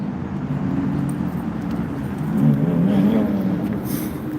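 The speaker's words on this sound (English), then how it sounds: "I hear a cool car engine." A car engine revs and rumbles on a street near the Brooklyn Bridge, a low steady drone that swells briefly in the middle before settling, heard moderately close amid city background noise.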